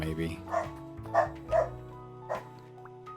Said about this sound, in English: Apologies for the dog you can undoubtedly hear in the background.